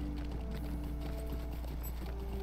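Horse hooves clip-clop steadily in Lord of the Rings Online as a mounted character rides, the rhythmic footfalls running under a constant, dense bed of game ambience and music.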